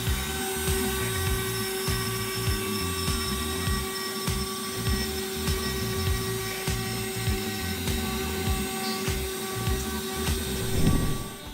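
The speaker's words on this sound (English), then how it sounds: "This fully automated CNC lathe efficiently processes works with precision" An automated CNC lathe machines wood with a steady, loud high whine over a rapid rhythmic churning pulse, continuous throughout and close by, with no talking.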